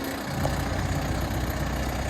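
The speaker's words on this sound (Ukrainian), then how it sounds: "Дивимося, мотор робить чистенько, тихенько." A forklift's steady, low diesel engine idles smoothly and evenly, close by, with a constant rumble and faint mechanical ticking throughout.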